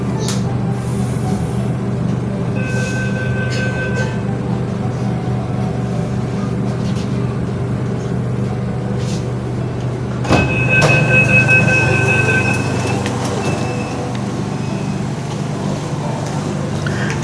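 A Pune Metro train running underground between Vanaz and Shivajinagar, with a loud continuous rumble throughout, a brief burst of wheel squeal near the middle, and no voices.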